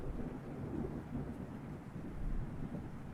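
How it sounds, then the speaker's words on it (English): Thunder in a video game plays as a low, continuous rumbling roll, fairly quiet and steady with no sharp crack, heard alone. "this actually sounds like real thunder"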